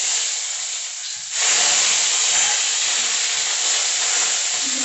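Shallots and curry leaves hitting hot oil with mustard seeds, a loud sudden burst of sizzling that jumps up after a quieter hiss and then holds as a dense, steady frying hiss close by.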